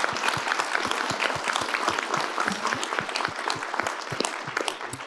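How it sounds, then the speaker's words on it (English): Sustained applause from an audience at a policy panel session, a dense steady patter of many hands with some sharper individual claps standing out, filling the whole stretch without speech. "I think we'll offer him a round of applause"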